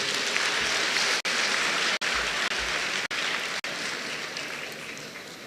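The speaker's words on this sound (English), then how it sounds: "Please, a round of applause for them." School audience gives a round of applause at a secondary school renewable energy competition, a dense continuous clapping wash broken by several brief sharp dropouts.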